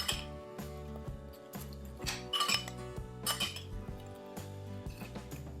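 Apple slices are tossed with butter in a bowl, giving light, quiet clinks and taps of a utensil against the dish in an irregular rhythm, with a faint tonal hum underneath.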